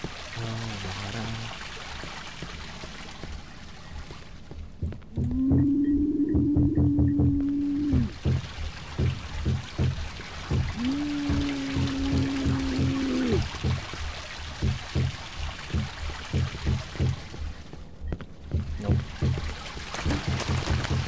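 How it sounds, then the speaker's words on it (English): Steady rushing water flows throughout in the video game Cry of Fear, with a low droning tone rising and falling twice over it and scattered clicks and taps. "Oh, I hear water. Oh, water."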